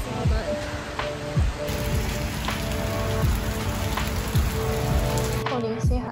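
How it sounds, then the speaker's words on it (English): Heavy rain pours steadily outdoors on a university campus, a dense, close wash of drops hitting the ground and surfaces throughout, with a few louder splatters and a brief faint voice. "it literally started raining super heavily the moment I walked out."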